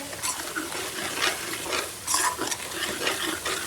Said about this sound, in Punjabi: ਇਹਨੂੰ ਮਸਾਲੇ ਨੂੰ ਆਪਾਂ ਨਾ ਉਨੀ ਦੇਰ ਤੱਕ ਭੁੰਨੂਗੇ ਜਿੰਨਾ ਤੱਕ ਨਾ ਇਹ ਮਸਾਲਾ ਨਾ ਤੇਲ ਨਾ ਛੱਡ ਜਾਵੇ